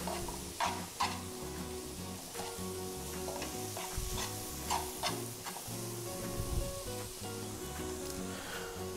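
Salt cod and peppers sautéing in a pan: a steady close sizzle and fry with repeated scraping stirs and small pops, no talking.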